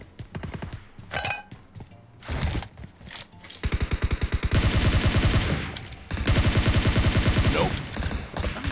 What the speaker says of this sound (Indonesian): Udah ada tembakan, Bung. Wah, menggunakan senjata Bison.